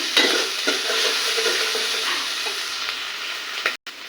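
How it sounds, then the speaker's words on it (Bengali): Ground cumin paste and garlic paste stir-frying in a pan, a continuous close sizzle with soft scraping stirs, briefly cutting out near the end. "অল্প একটু জিরা বাটা মশলাগুলোকে নেড়ে নেব সবগুলোকে একটু বাজার ভাজা করে নিলাম"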